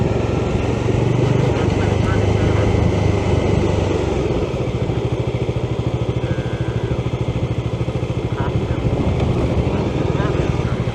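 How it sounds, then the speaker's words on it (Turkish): Steady, heavy wind buffeting roars across the microphone while riding a KTM Adventure 250 or Bajaj Dominar 400 motorcycle, a constant low rumble with gusty fluctuations and a vehicle-like drone underneath. "Ha rüzgar vuruyormuş ya."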